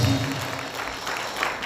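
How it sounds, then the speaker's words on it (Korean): Brief burst of crowd applause at a Korean political rally, dense clapping at low-moderate level for under two seconds. "다시 한번 박수를 보내주시기 바랍니다"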